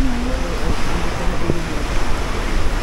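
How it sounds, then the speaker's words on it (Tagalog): Steady sea surf at White Beach, Boracay, a continuous broadband wash of waves mixed with strong wind noise on the microphone, loud and unbroken. "Ang ganda naman ng dagat."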